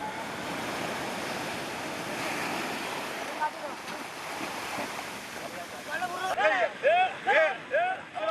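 Rough ocean surf breaking over a rocky shore on Sri Lanka's Indian Ocean coast, a continuous loud wash of waves and wind with bursts of birdlike chirps near the end.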